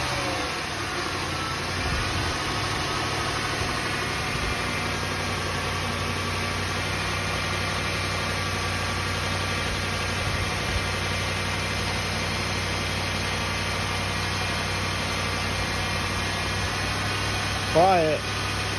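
A Lexus LS430 engine idles steadily on its first start after a timing belt and water pump replacement, a smooth continuous hum held for the whole stretch with a brief bump near the end.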